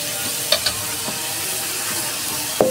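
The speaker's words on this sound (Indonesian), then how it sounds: "si bihunnya dimasukin, lalu kita campurkan, diaduk-aduk hingga matang" Rice vermicelli and carrots being stirred in a frying pan, a soft steady sizzle with a few sharp scrapes and clicks of the utensil against the pan.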